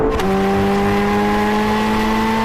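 Corvette Z06 and Ford GT in a drag race, with a loud, close engine note that shifts pitch sharply at the start and then holds a steady high drone.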